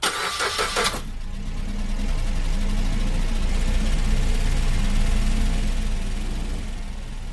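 An old jalopy car engine cranks and catches, then settles into a steady, fairly loud running rumble that holds and slowly fades as the car pulls away; no talking.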